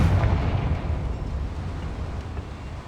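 Confringo fire spell blast in Hogwarts Legacy during a goblin fight, a loud rumbling burst with dense low boom that rolls on for a few seconds without letting up.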